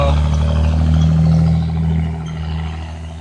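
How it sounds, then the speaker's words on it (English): A loud bus drives past nearby, its deep engine rumble holding steady and then easing as it moves away, with no talking over it. "Sorry, I'm letting the bus pass by because that's loud as hell."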